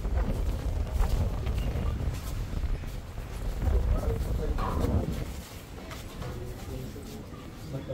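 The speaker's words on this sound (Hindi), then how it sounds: "क्या हवा चल रही है यार।" Strong wind buffets the microphone near the Dhari Devi temple, producing a continuous low rumble that swells and eases, with faint voices mixed in.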